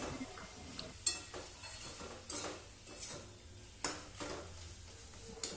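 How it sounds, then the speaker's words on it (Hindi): A spoon stirs bottle gourd and fish curry in a pan. Spaced clinks and scrapes of the utensil against the metal come about once a second over a faint background hiss, close and fairly quiet. "इसे और एक बार अच्छी तरह से मिक्स कर लेते हैं"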